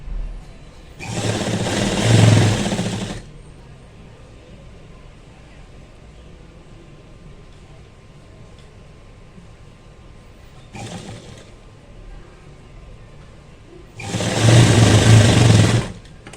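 A sewing machine stitches the shoulder joint of a blouse in three loud bursts, two long runs and one brief one, with quiet pauses between.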